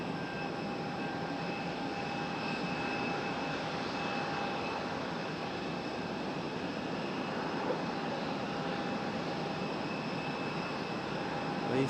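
A small Cessna 172 approaches to land at Raleigh Durham airport, a faint, steady, distant engine drone holding evenly with no talk.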